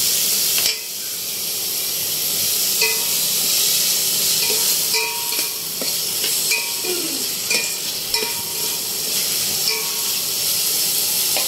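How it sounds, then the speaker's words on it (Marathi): Tomatoes sizzle in a hot oil tempering for Malvani chicken vade, making a steady loud hiss with occasional light clinks of stirring close by. "इथे टोमॅटो टाकलाय आता फोडणीला आणि छान असं एकजीव होईपर्यंत परतत राहायचं."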